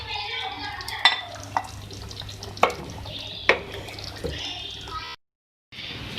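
Dal gosht, a beef and lentil curry, being stirred in a pot, with soft scraping and a few sharp utensil knocks against the pot over a steady low simmer, then a brief silence.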